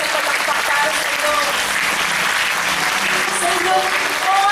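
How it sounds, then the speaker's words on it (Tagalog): A church congregation breaks into loud, sustained applause, dense rapid clapping from many hands filling the room evenly, with some voices mixed in. "Pinakamalakas na palakpak para sa inyo."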